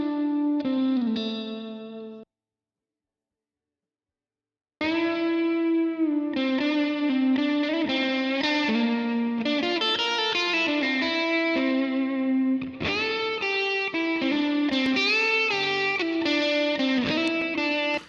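Electric guitar phrases through a low-pass filter set around 2 kHz, giving a dull, muffled tone lacking bright top end, pausing briefly near the start and then continuing steadily.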